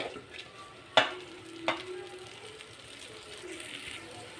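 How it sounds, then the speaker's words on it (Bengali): Rice frying in a pan for pulao, a soft, steady low sizzle with two sharp scraping stirs early on, then quieter frying alone. "তো এখানে চালটা ভাজা হয়ে গেছে"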